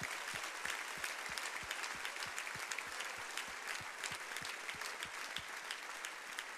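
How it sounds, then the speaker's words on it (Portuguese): A church congregation claps during a worship service, steady massed applause with an even rhythmic beat of low thuds running under the dense clatter of hands throughout. "Aplauda como se fosse o seu pai, a sua mãe, seu irmão, seu marido, a sua esposa, seu filho"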